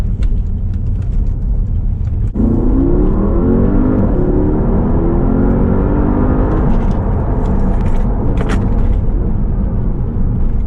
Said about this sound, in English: Took you out in the Porsche Panamera Turbo SE Hybrid